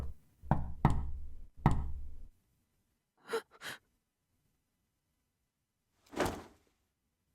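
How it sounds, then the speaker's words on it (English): Knocking on a door in the visual novel game Chaos;Child: a group of sharp raps at the start, then two quieter knocks and a single later knock, each separated by silence. "Suddenly, I heard a knock at the door."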